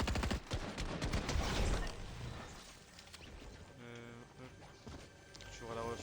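Rapid bursts of gunfire in the video game Unreal Reload, loud and dense at first, then thinning into scattered shots against game sounds and tonal effects.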